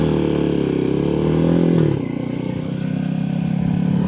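A Royal Enfield Himalayan 450 motorcycle runs with a loud, close, steady engine drone that drops in pitch partway through as it eases off, then holds a lower, rougher note.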